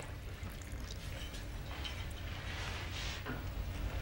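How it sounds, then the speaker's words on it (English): Tap water poured out, a steady, diffuse splashing hiss over low background rumble, with no speech. "Listen, Trondra, how about a little H2O to take the edge off?"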